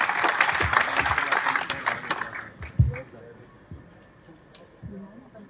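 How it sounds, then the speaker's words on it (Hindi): An audience bursts into loud applause at a documentary launch, dense clapping for about two seconds before thinning into scattered claps and murmuring with voices underneath. "एक बार जोरदार तालियों के साथ"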